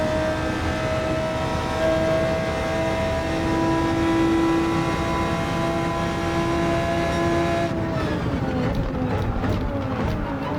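A McLaren GT3 race car engine in Gran Turismo 7 holds a loud, steady high-rev whine, then drops sharply in pitch as the car lifts off and downshifts near the end.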